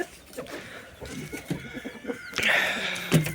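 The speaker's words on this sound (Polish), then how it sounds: "A codzienne ganianie kogutów" Chickens clucking nearby, with a rooster's louder squawk rising near the end amid farmyard rustling.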